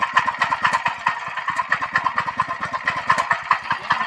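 A farm power tiller engine runs close by in a steady, rapid putter, with even knocking pulses and some mid-range rattle through the whole stretch. No voices are present.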